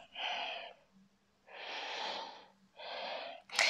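Three audible breaths during a morning yoga session, close and airy, each lasting about a second with short quiet gaps between them.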